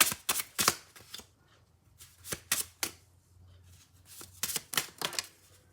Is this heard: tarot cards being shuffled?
yes